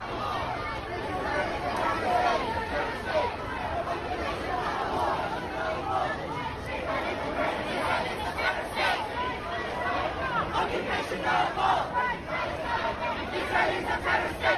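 A huge crowd at a pro-Palestine protest on the streets of London, a dense, continuous roar of many voices chanting and shouting together, loud and unbroken throughout.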